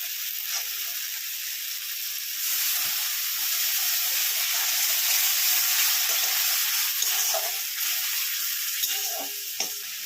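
Yogurt added to spices in a pan sets off a continuous loud sizzle with steam hiss and occasional stirring scrapes, no voices.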